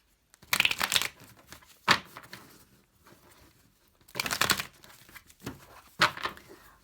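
Tarot cards being shuffled by hand, several bursts of crisp riffling and flicking separated by short pauses, close and clear with no talking.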